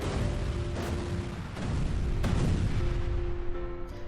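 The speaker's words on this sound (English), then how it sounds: "explosions started going off around the underground facility." Explosions rumble through an underground facility in a video game: a dense, continuous low roar broken by sharp booming bursts near the start, in the middle and at the end.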